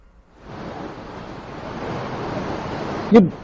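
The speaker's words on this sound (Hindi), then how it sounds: "पानी की धार की रफ्तार में थोड़ी कमी आई है?" Floodwater roaring at the Valmiki Nagar Gandak barrage in Bihar, a steady broadband rush that builds after a quiet start and holds loud and continuous, with a brief knock near the end.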